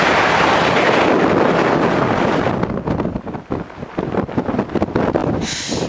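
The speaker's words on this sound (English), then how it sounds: "It's very windy up here." Strong gale buffeting an exposed Dartmoor tor at Steeperton Tor, a loud roaring wind blast hitting the microphone, easing into gusty, fluttering bursts toward the end.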